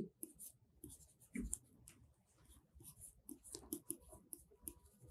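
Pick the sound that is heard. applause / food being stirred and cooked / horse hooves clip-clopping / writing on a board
writing on a board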